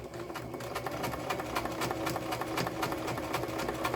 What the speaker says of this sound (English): So I'm going to stitch this on. It'll secure down my layers.